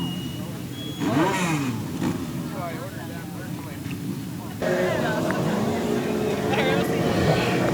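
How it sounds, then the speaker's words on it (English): 600cc micro sprint race cars rolling out onto the track at Thunder Hill Speedway, several engines droning and revving at moderate distance, with a public address announcer talking over them. "these are your Natural Touch Landscaping 600cc micro sprints rolling out of the track right now"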